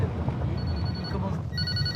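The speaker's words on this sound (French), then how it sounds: "Son téléphone n'arrête pas de sonner." A telephone rings for a property developer in Kep sur Mer, Cambodia, sounding as a steady electronic ring over loud ambient murmur with background voices.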